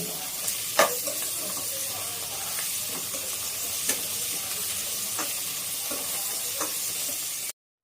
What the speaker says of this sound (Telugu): ఈ కొత్తిమీర కూడా బాగా ఫ్రై అవ్వాలి